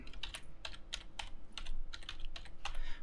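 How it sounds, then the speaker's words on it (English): Typing on a computer keyboard while building a browser app from scratch, with a steady run of close, crisp key taps in irregular bursts, alone without talk. "Make sure you're typing those correctly"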